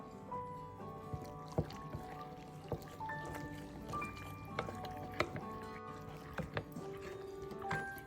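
Coconut water is poured into a flour batter for sweet Aadi kool made with palm jaggery, giving faint wet trickles and soft drips with scattered small splashes and clinks, all quiet and close.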